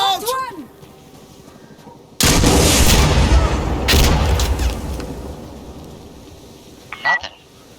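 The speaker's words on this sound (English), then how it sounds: "Frag out!" A frag grenade blows up in the shooter game Insurgency Sandstorm, a sudden loud broadband blast that rolls on for a couple of seconds before fading under the gameplay ambience. A short burst of voice comes just before it.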